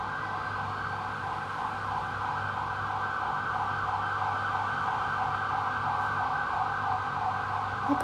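An ambulance siren wails continuously at steady volume, its tone cycling up and down without a break.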